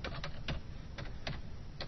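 Quick taps on a computer keyboard while entering text into an Excel spreadsheet cell, several soft clicks in an irregular rhythm over low background hum.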